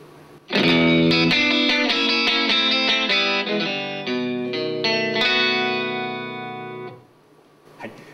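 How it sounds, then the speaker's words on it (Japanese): An electric guitar played through a Roland Cube 80XL amp on its JC Clean setting plays a quick run of ringing notes and chords, bright and sustained, then fades out. "まずはおなじみの JC クリーンのサウンドです"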